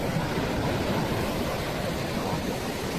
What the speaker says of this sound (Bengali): অনেক বিশাল বিশাল ঢেউ আসতেছে।